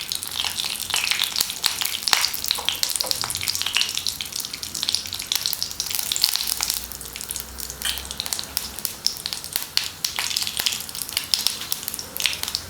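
Fenugreek seeds and spices frying in a pan, a continuous bright sizzle broken by repeated scraping stir strokes, close and fairly loud with no talk.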